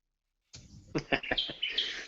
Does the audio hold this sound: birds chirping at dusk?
yes